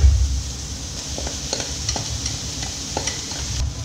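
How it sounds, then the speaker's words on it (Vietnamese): Rice is stir-fried in a pan for salted fish fried rice, with a steady sizzle and repeated light scraping strokes of a utensil, close up and with no talking. "Bây giờ mình sẽ cho cơm vào."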